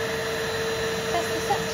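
A Nuvac vacuum cleaner runs with its suction on, giving a steady, even whirring drone with a thin tonal whine that holds constant for the whole short stretch, close to the listener.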